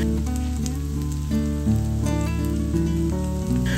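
Cauliflower stalks frying in a pan with salt, a loud close crackling sizzle running steadily throughout, with no voices.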